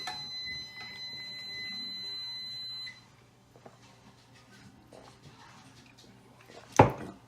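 A steady electronic oven timer beep sounds for about three seconds while baked buffalo wings finish, then stops, followed by quiet kitchen clatter and a sharp clunk near the end.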